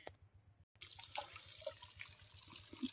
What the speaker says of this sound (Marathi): झाडास पाणी पुरवठा करण्यात येत आहे.